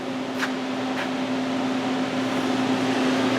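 A vacuum pump evacuating a Mack truck's air-conditioning system drones steadily with a constant low hum and whirring noise, close and loud, with a couple of faint clicks near the start.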